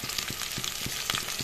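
Onions frying in oil in a pan for a fish curry with potato and tomato, a steady close sizzle with light stirring scrapes and soft taps throughout, no voices.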